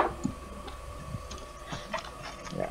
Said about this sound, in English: It is kind of a loud printer. I don't know if you guys can hear it printing